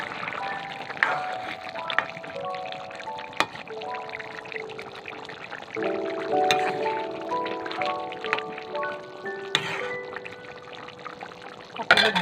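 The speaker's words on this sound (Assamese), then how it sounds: "তাৰপিছত গৰম পানী দি দিব লাগিব।" Hot water is poured into a cooking pot in a home kitchen, a continuous splashing pour with a rising, filling tone, interrupted by a few clinks and knocks, heard up close.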